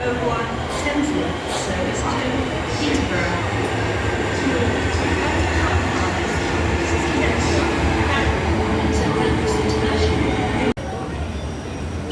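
Steady loud rumble of a train at London St Pancras platform, broad roaring noise with faint squeals and clanks, continuous throughout, with talk blending into the din.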